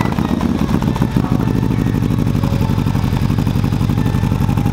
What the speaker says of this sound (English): It's a total new sound, sounds raspier.